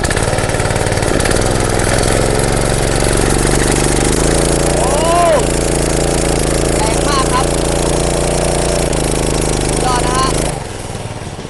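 A 7.5 hp engine driving a 3-inch water pump runs steadily close by, its engine note rising and falling as it is revved, with water gushing, before cutting off abruptly near the end.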